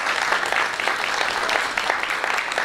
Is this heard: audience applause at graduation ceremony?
yes